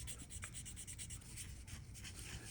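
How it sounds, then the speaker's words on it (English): Close, quiet rhythmic rubbing of sandpaper smoothing a plastic Tamiya Tiger I model tank part, a steady soft scratchy stroke repeated several times a second with no voices. "here I'm just sanding everything back so that I have a nice smooth finish"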